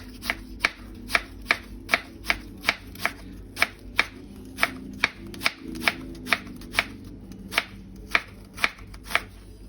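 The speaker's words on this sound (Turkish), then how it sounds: "Şimdi soğanımızı güzelce kesiyoruz. İnce ince keseceğiz." A knife chops onion thinly on a cutting board in a steady run of crisp, evenly spaced strokes, close and clear, with no talking.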